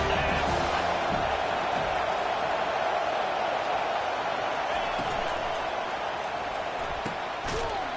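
A packed football stadium crowd at Wisconsin versus USC roars steadily behind the defense before a third down, a dense, unbroken wall of cheering under a commentator's talk.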